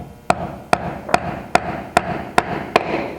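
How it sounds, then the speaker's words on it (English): Seven sharp, evenly spaced hammer blows strike a nail into wood, each a crisp knock with a short ring, about two per second. "allowing the hammer to put the nail in."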